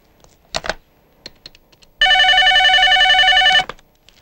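Several sharp clicks of a telephone being dialed, followed by a loud, steady electronic ringing tone lasting about a second and a half, then more faint clicks; no talking.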